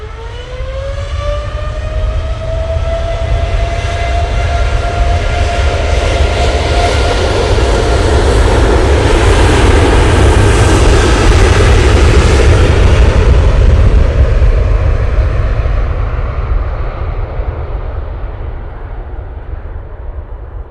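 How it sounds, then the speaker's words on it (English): A TUI Boeing 787-9 Dreamliner takes off from Manchester Airport bound for Cancun, its engines building from a rising whine into a loud, broad roar that swells and then slowly fades, with no talk. "TUI 787-9 Dreamliner"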